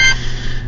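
A phone alarm sounds as a brief cluster of thin, high electronic beeps right at the start, then fades into a quiet room hum, with no voices.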